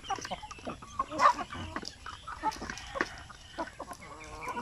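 Free-ranging chickens released into an outdoor ranging area, some just recovered from colds, cluck and chatter in a busy, overlapping flock, with sharp calls rising over a steady rustle of scratching and movement.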